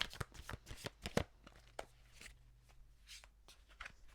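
Tarot cards are shuffled by hand in a quiet room, a quick run of crisp riffling flicks followed by softer, sparser card slides and taps.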